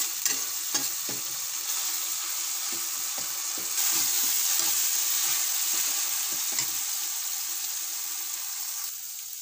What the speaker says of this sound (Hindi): इस मसाले को हमें 3 मिनट भूनना है।